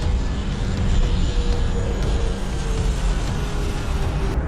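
A small airplane roars steadily in flight as it tumbles through the air in a horror film, a dense, continuous engine and wind rumble filling the scene at close range.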